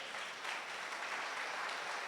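Steady, dense applause from a large church congregation, continuous and even throughout with no voices standing out.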